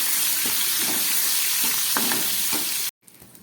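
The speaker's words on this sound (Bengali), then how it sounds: "ভালো করে এগুলোকে একটু ভেজে নিচ্ছি।" Capsicum and green chillies fry in a pan with continuous loud sizzling and soft stirring taps, then cut off abruptly near the end.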